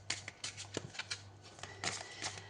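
Oracle cards being shuffled by hand for a Sagittarius horoscope reading, a series of soft papery riffles and flicks in quick bursts, close and fairly quiet, with a low steady hum underneath.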